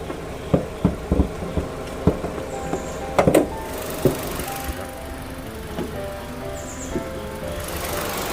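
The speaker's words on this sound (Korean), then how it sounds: "엔진 소리 들어보시면 알겠지만 엔진 소리도 상태 양호한 편이고요" A red All New Pride 5-door hatchback with 70,000 km idles steadily with a low, even rumble, broken by scattered clicks and knocks nearby.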